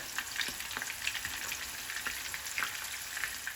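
Greek keftedes meatballs fry in a pan over medium heat, a steady, fairly quiet crackling sizzle with light scattered pops throughout, close by and without voices.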